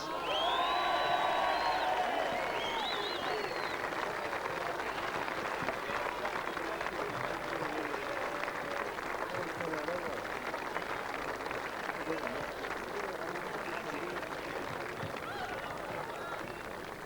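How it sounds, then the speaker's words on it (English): A crowd cheers and applauds steadily for the coach of the Hampton Rovers Amateur Footy Club, a dense, continuous roar with brief whistles early on and an announcer's voice over it. "Please give a big cheer for Russell Barnes."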